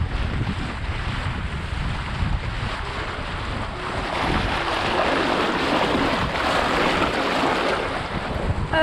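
A dinghy driven by an ePropulsion Spirit 1.0 Plus electric outboard at speed. Water rushes and wind buffets the microphone steadily, growing louder partway through.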